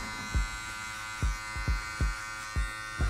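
Hair clippers buzz steadily with the blade laid flat against a comb during a clipper-over-comb fade, with several low thumps as the comb and blade press against the head, close and alone.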